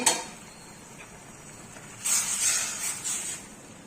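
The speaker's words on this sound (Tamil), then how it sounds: "நல்லா கொதிக்குது" A pot of coconut gravy bubbles and hisses softly, with a brief louder sizzling burst midway, heard close up with no talking.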